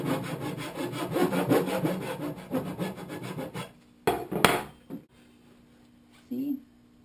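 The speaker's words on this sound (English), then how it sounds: "And then I just use a little bit of a rasp." Steady rhythmic rasping as a rasp is filed against wood while building the base for horse hair buggy seat springs, close and continuous for a few seconds, followed by a couple of sharp knocks and a pause.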